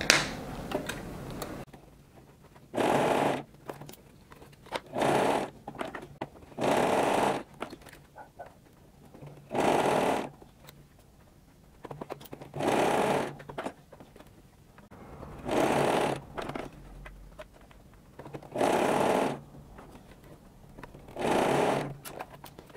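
A sewing machine zigzag-stitches elastic onto high-waisted panties in about nine short bursts of rapid mechanical clatter, each a second or two long, separated by quieter pauses with faint handling sounds.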